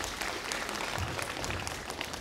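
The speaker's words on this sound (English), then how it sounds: "Just another round of applause for all our amazing students at the front" Dense, sustained applause from a school concert audience, many hands clapping steadily and loudly throughout with no pause.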